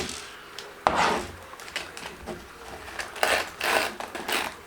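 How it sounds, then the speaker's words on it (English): A lid slides onto a bamboo-filament 3D-printed container with short scraping rubs and a sharp click near the start, followed by several more rasping slides and knocks at close range. "we've got a lid which just slides on"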